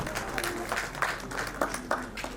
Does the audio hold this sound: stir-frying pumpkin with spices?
no